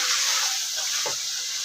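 Chicken karhai sautéing in a pan produces a dense, loud, steady sizzle with a faint stir midway through this short moment.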